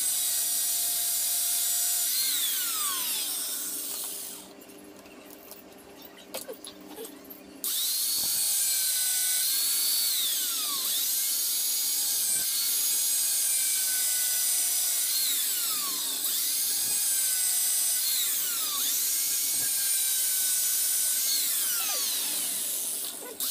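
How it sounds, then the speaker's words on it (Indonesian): An angle grinder cuts through a non-original aftermarket Honda Scorpio motorcycle chain, giving a loud, steady high-pitched whine with a brief dip around a third of the way in, then it resumes and runs continuously to the end. "Jadi ini akan gue gerinda aja biar lebih cepat prosesnya."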